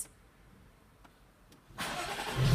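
A Jaguar F-Type S with a 3.0 supercharged V6 sits quiet with a few faint clicks, then its engine fires abruptly near the end. The start is loud and close and is followed by a rising roar.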